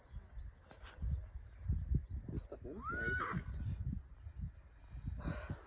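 A heavy draft horse neighs once at moderate distance, a rising whinny among low rumbling background noise and shuffling sounds.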